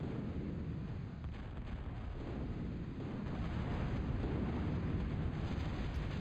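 D-gun shots and explosions from a real-time strategy game battle on the Hundred Isles map form a steady, heavy rumble of booming blasts, loud and continuous with no talk.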